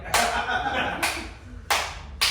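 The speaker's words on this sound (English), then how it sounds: "I'm doing a slow clap for you." Four loud, widely spaced hand claps ring out one at a time in a slow, deliberate rhythm, close up with no talking.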